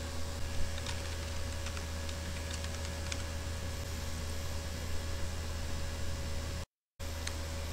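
Computer keyboard typing as login credentials, an email address and a password, are entered into a website form, with soft scattered key clicks over a steady hum and faint hiss, and no voices.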